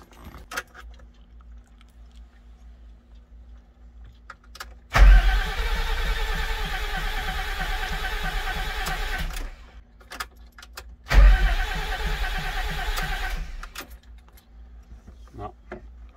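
A diesel motorhome engine is cranked in two long attempts after the fuel was bled of air, each a loud labored churning with a sharp onset, separated by quiet with faint clicks and knocks.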